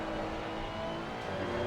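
A GT2 race car in Assetto Corsa Competizione holds a steady, fairly quiet engine drone that swells slightly toward the end, with no talk over it.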